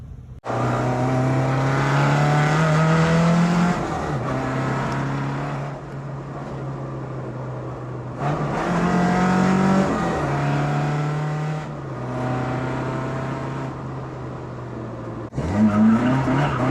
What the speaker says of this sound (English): welded diff's pretty good for drifting.